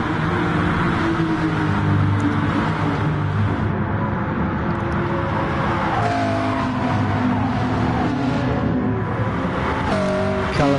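Race car engines in a PS4 racing game drone continuously and loudly as several cars battle closely at the front, with layered whining engine tones and occasional tyre squeal.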